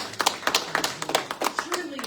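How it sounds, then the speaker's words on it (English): Scattered applause at a city council meeting, a small group clapping unevenly at close range for about two seconds, with a voice starting to speak near the end. "the work that you all did in arranging that, publicizing that, and making some of that happen deserves applause"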